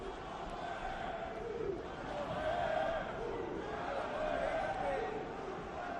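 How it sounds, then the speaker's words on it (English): Faint, distant Brazilian fans cheering and chanting at an MMA fight between Barão and McDonald, a steady crowd roar swelling in waves. "You can hear the Brazilian fans cheering on Barão."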